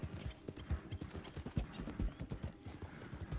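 Hooves clop quietly at a brisk riding pace in the video game Red Dead Redemption 2, a steady rhythmic patter with faint mechanical jingles from the tack.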